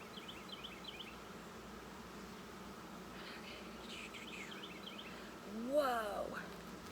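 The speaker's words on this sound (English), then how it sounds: "there's still this many bees in here" Honey bees in an open hive give a faint, steady buzz under a soft background hum, and a brief louder swell comes near the end.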